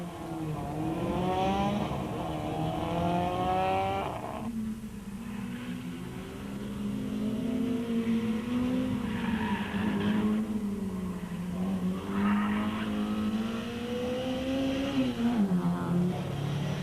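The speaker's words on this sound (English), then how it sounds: "The route was made even more tricky by the inclusion of the karting track, with the big rally cars battling to get around the tight corners" Rally cars, including a Mitsubishi Lancer, race a tight tarmac karting-track section of the 2005 Rally of South Africa. Engines rev and shift continuously and loudly, with a brief drop and a skid-like squeal along the way.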